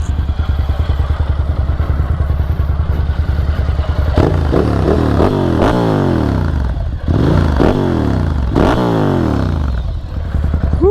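Ducati Sport Classic 1000 motorcycle engine, a loud, lumpy idle that breaks into several sharp revs rising and falling in quick bursts, close by with no talking.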